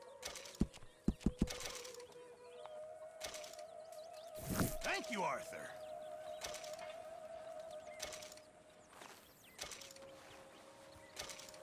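Game horse from Red Dead Redemption 2 on PC, with a few sharp hoof clops early on and a burst of whinny-like noise midway, set against steady in-game ambience and a sustained tone.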